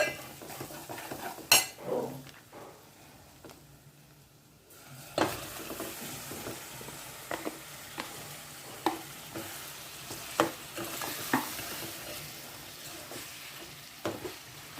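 Chicken frying with onions in a pan over high flame, a soft sizzle with spaced clinks and scrapes of a utensil stirring against the pan, faint and close, after a brief quiet stretch.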